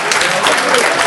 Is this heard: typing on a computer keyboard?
no